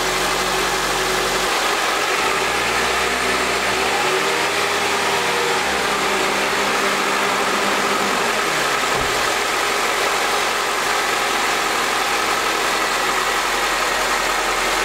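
A car engine is revved up during a battery charging test, a constant loud droning hum that climbs in pitch after a rough idle, with no speech.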